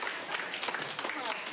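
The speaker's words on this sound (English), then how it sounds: "Round of applause for biking." Applause from a crowd at a live show, a short burst of many hands clapping with a bit of cheering mixed in, heard from a moderate distance.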